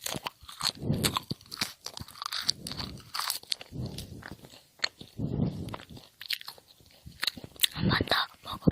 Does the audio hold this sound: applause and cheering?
no